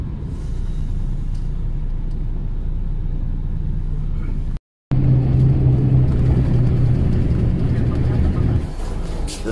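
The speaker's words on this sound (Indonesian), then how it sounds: "So ito yung private bus namin ha." A private bus travelling from Bicol to Manila, heard from inside the cabin, gives a steady low engine and road rumble throughout, broken by one brief dropout.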